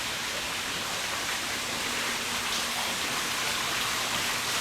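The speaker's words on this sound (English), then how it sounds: "as you can hear the trickling water, this particular area is called the Fountainhead Lounge" Steady, even wash of trickling water from a fountain in a cruise ship lounge, a continuous broadband hiss with no breaks, moderately loud and fairly close.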